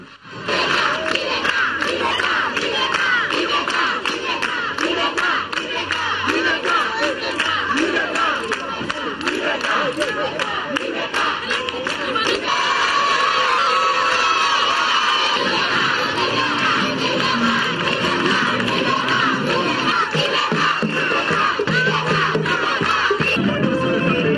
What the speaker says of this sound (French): le président de la République, Ibrahim Boubacar Keïta, a eu droit ce mardi encore à un véritable bain de foule